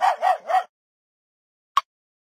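Three quick, clipped dog barks play from a noise box in a Mickey Mouse Clubhouse video game, close and clear, followed by silence and a single short click.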